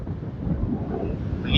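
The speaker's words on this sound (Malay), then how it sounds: "Angin kuat." Strong wind at a beach campsite at Pantai Sepat, Kuantan, roars steadily and loudly across the microphone in a dense low rumble, swelling at the end, with no speech.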